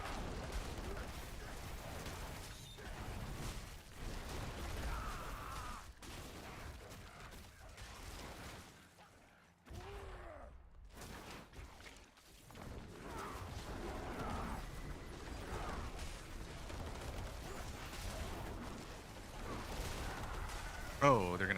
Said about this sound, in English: There's so many explosions.